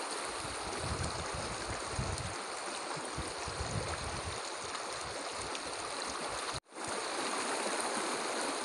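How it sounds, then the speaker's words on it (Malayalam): Cold mountain water flows down at a riverside spot in Thathamangalam, Palakkad, a broad continuous rushing roar close by, steady throughout apart from one brief dropout. "മലക്ക് മുകളിൽ നിന്ന് തന്നെയാണ് ഇപ്പോഴും വെള്ളം വന്നുകൊണ്ടിരിക്കുന്നത്"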